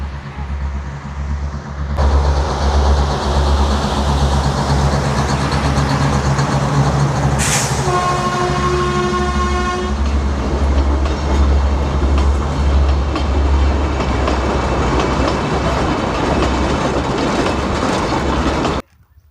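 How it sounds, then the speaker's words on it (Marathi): The Matheran toy train rumbles steadily along the rails with rhythmic clatter as it arrives, and a loud horn blares for a couple of seconds partway through. "टॉय ट्रेन आलेली आहे आपली"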